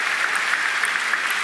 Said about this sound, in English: Groskopf on his feet, applauding Dang Chu.